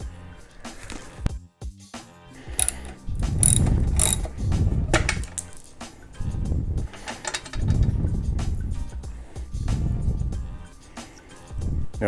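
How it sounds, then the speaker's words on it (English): A ratchet clicks in rapid bursts while loosening a T40 bolt on a Harley Iron 883 Sportster, close and crisp, with short pauses between strokes and no talking. "use a ratchet right here to turn this and loosen it up"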